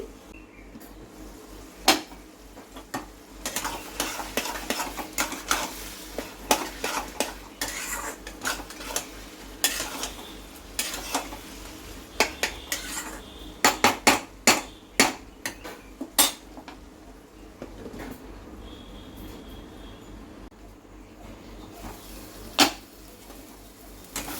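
Bamboo plant being chopped into small pieces for a Mizoram-style vegetable dish, sharp knife strikes against a board landing in uneven bursts, some quick clustered chops, close and fairly clear over a low steady hum, no talking.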